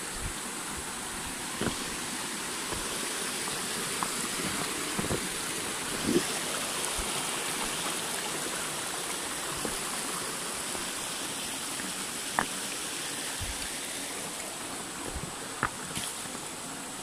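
A mountain stream flows at a rock-crab catching spot, giving a constant broad rushing wash of water with a few faint clicks and knocks over it and no talk.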